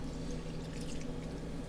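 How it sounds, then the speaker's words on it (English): Bloomed yeast liquid pours onto a flour mixture in a bowl for no-knead sausage bread, a short, faint, soft trickling splash with no talking. "once your yeast has bloomed, has that nice head on it, we're going to pour this right on top of the flour mixture"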